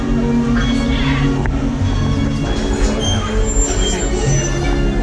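The Walt Disney World Railroad steam train rolls along with a heavy low rumble, rattling cars and occasional squeals, loud and close throughout, with faint voices under the noise.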